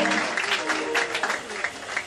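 A church congregation applauds, with brisk, scattered clapping running throughout, and voices are heard calling out over it.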